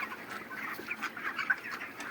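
A flock of broiler chickens in a poultry shed during hot weather, soft overlapping clucks and murmurs rising and falling continuously, faint and close, with no talk.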